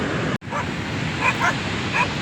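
Dogs barking outdoors, a few short yips and barks at moderate distance over steady wind or surf noise, with a brief dropout near the start.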